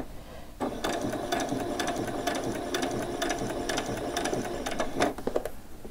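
A sewing machine runs slowly on a normal stitch while sewing a frilled top, its foot pedal held steady. The needle gives a continuous rhythmic mechanical clatter that is close and even, with no talking.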